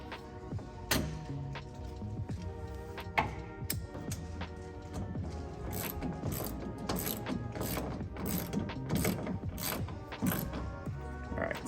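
A ratchet retightens a nylock nut on a truck bed mount, its rapid pawl clicks repeating in bursts across the clip, close and clear with small metallic knocks between strokes.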